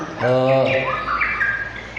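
A young white-rumped shama, about 2.5 months old, gives a harsh, buzzy call followed by a few rising squeaky notes, close and fairly loud.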